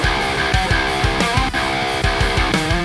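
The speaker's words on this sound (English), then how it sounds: "Just cutting your audio and moving it without compensating will result in noticeable gaps," A recorded guitar part that has been cut and snapped to the grid without compensation plays with its chords repeatedly chopped, leaving small audible gaps between the loud, strummed segments.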